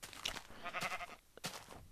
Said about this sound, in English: Sheep, go away.